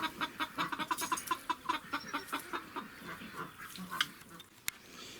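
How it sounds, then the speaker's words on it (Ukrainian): A cluster of adult Muscovy ducks making soft, breathy hissing and low clucking calls in quick rhythmic bursts, fairly close and quiet, with a sharp click near the end. "А це вже дорослі качки."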